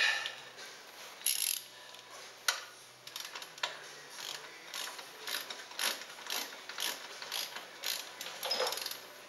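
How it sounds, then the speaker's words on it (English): A ratchet wrench clicks in quick, uneven bursts while turning a nut on a ball joint during a Jeep Rubicon ball joint replacement, the close, crisp pawl ticks repeating with short pauses and no talk. "Alternate ratchet."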